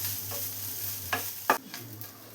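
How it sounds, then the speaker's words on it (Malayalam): Grated coconut roasting in a pan for a chickpea curry crackles under a low hiss, as a spoon scrapes through it in a few quick strokes, up close and without voices. "ഇനി ഇതെല്ലാം കൂടെ മിക്സ് ചെയ്തിട്ട് നന്നായി തന്നെ തേങ്ങയൊന്ന് വറുത്തെടുക്കണം."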